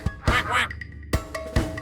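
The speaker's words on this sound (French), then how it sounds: "Le petit canard, canard, canard." A duck quacks in a French children's animal song, a few short nasal quacks in quick succession with a brief pause between groups, close and fairly loud over a light musical background.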